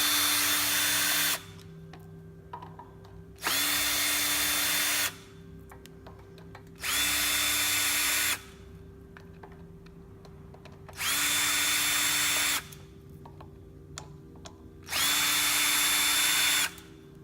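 A power drill backs the screws out of a geared motor in five separate whirring bursts, each lasting one to two seconds, with quiet pauses between them. Close and loud.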